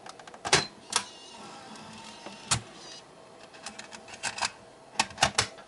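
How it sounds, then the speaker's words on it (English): A MiniDV tape going into a Sony Video Walkman, a string of small close mechanical clicks and clacks with brief whirring in between, irregular and moderately quiet, with no talking. "So I'm going to put the tape in and do a restoration and see what happens"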